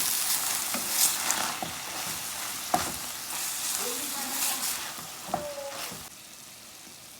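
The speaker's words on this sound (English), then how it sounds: "We're gonna go in with some salt now, and we wanna give it a mix." Salt and seasoning are stirred into ground beef filling for Guyanese beef patties as it sizzles in a frying pan, with a steady crackle and occasional spoon scrapes and knocks against the pan.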